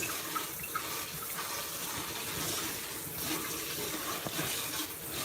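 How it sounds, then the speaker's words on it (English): Rice being rinsed under a running kitchen tap, a steady close hiss of flowing water with splashing and gushing that continues throughout, no voices. "Like y'all would have did from the beginning, washing the rice."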